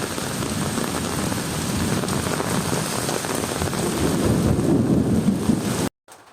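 Heavy rain pours steadily and loudly by a riverbank during a lightning storm, a dense wash of noise, then cuts off abruptly at the very end. No clear thunder stands out.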